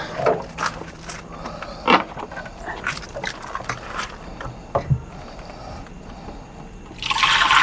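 Liquid is poured for homemade vinegar, a trickling stream running through a noisy background with scattered knocks and a brief dog-like bark, then a louder rushing pour at the end.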